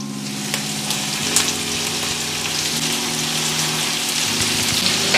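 Cabbage hitting a hot pot of frying bacon and sausage, giving a loud, steady crackling sizzle like heavy rain that holds for the whole stretch with a few sharper pops and no voices.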